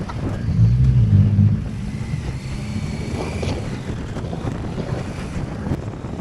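Strong wind buffets a motorcyclist on a ride to Hongwon harbor, a loud low roar with heavier gusts in the first second or so, then a steady rush of wind noise on the microphone.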